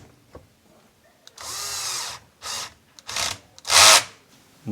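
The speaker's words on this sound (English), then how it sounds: "Now it's time to put these 2 screws back in here." Power drill driving two screws back into a Bosch dishwasher during heat pump repair, four separate whirring bursts of rising length and loudness, close up with no talking.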